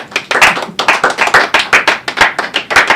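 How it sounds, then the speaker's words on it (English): A studio audience at a late-night comedy show's Christmas special claps in a quick, loud, uneven patter for about three seconds, with sharp hand slaps close to the microphone. "I have no idea what that kind of clap is."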